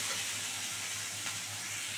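Potatoes, onions and chillies sizzle steadily in a pan as they fry until reddened, a short continuous close frying hiss that cuts off abruptly at the end.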